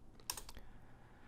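A short burst of typing on a computer keyboard while entering a command, several quick close clicks in a quiet room.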